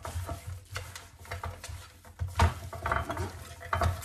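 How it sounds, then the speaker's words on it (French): Shrimp tossed with salt and cornstarch, stirred in a bowl or pan: soft, uneven scraping and clinking strokes of a utensil, close and fairly quiet, a few sharper knocks near the end, no voices. "Mélanger."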